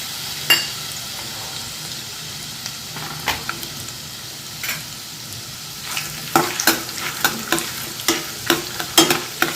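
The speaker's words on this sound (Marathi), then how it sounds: "टाकले आहेत त्याच तेलामध्ये लसूण कढीपत्ता आणि फुटाणा डाळ" Garlic, curry leaves and roasted gram dal frying in hot oil for a puffed-rice chivda, a steady soft sizzle broken by repeated sharp stirring scrapes that grow more frequent toward the end.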